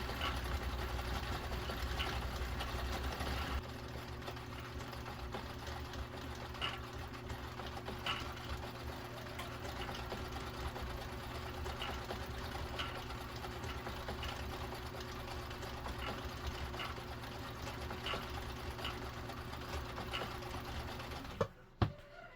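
A Viking Husqvarna 2000 sewing machine runs a stretch stitch, a steady, close mechanical whir and rapid needle clatter that continues alone for about twenty seconds before stopping abruptly near the end.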